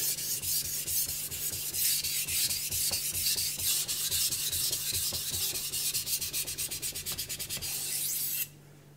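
A knife blade rubs back and forth on a hard Naniwa Gouken Kuroto 1000 whetstone in steady, rhythmic strokes that quicken near the end before stopping; close, soft and gritty, no speech.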